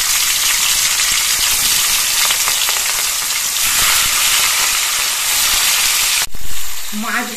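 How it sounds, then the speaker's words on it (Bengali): Hilsa fish frying in hot oil in a wok, a loud, continuous sizzle that stays dense and even, then briefly drops away before a short clatter near the end. "এবার মাছগুলো ভেজে নেব।"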